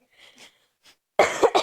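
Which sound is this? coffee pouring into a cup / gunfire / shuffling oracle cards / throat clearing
throat clearing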